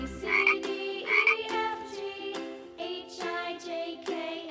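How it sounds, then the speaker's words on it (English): A cartoonish frog croak sounds in a children's alphabet game, a few bright, tonal, ribbiting bursts in a bouncy rhythm, clear and close with no talking. "F is for frog."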